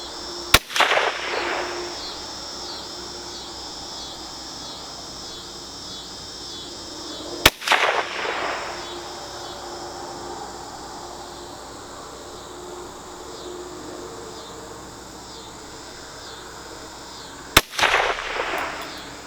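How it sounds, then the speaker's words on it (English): Three sharp rifle shots from a Rossi RS-22M fired at targets during a night hunt, spaced well apart, each a loud crack with a short outdoor tail, over a steady chorus of crickets and insects. "Let's go ahead and take a shot at one of those other targets."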